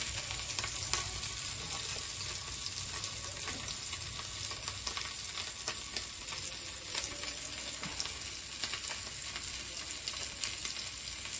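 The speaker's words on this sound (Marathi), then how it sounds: "बारीक करून घेवन तेल गरम जातरी मागीर ते बांगडे घालूं जाय." Mackerel frying in hot oil in a pan, a dense, steady sizzle with crackling spatter that stays loud and close throughout, with no voices.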